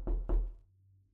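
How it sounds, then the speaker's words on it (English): Two firm knocks strike a door in quick succession, close and hollow, followed by a low lingering hum and quiet. "There was a knock at the door."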